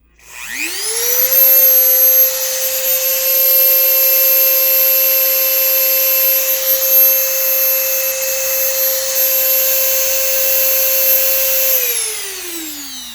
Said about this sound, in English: you can use a rotary tool with this if you guys want to